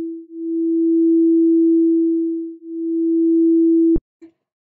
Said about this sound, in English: If you use a sine wave, they will cancel each other out and the audio will go in and out.